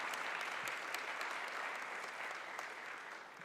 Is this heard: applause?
yes